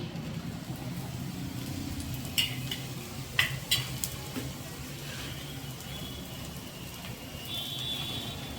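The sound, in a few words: masala bhakhri flatbread cooking in oil on low gas flame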